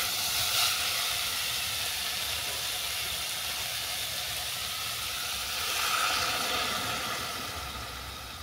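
Water is poured into a hot pan of red amaranth greens cooked with boroli fish head, making a loud, continuous hissing sizzle. It swells briefly partway through, then eases off, with no voices.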